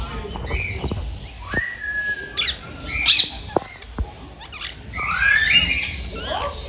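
Red, yellow and blue parrots chatter nearby at a zoo with a mix of squawks, sharp whistles and chirps, calls overlapping irregularly against a faint background murmur.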